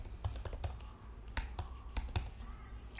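Keys clatter on a computer keyboard in short irregular bursts of clicks, close and fairly quiet, with no voices.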